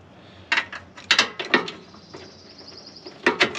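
Wrench working 13 mm bumper bolts with 15 mm nuts on a Power Wagon chassis during a bumper install: a run of short metallic ratcheting clicks and clanks in bursts, close and fairly loud, with no talk.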